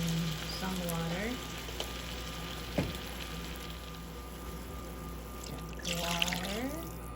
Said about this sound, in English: Now we're gonna add chicken broth